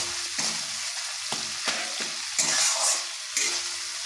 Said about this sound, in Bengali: ভালোভাবে এইভাবে মশলাটাকে কষাতে হবে মিডিয়াম টু লো হিটে।